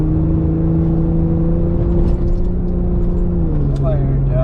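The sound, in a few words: old Jeep Cherokee driving in soft sand dunes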